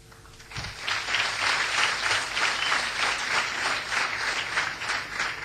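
Audience applause at a campus event where an actor addresses the crowd, sustained dense clapping that rises quickly and holds steady and loud throughout, with no voice over it.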